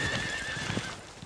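Cavalry horses from the Great War era are heard with soft hoof clip-clops and a whinny, steady and moderately close over a broad, noisy background with no voices.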